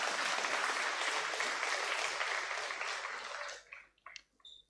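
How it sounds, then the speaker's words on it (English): Audience at a Grenada Boys Secondary School graduation claps in a sustained round of applause that thins out near the end into a few scattered claps and faint sounds. "let us give our administration, a new administration, a lusty round of applause for that initiative"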